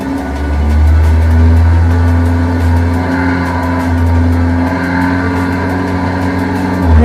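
A kart-style race car engine holds a loud, steady mid-pitched drone with rising and falling revs at a stadium oval race start, close and continuous with no voices.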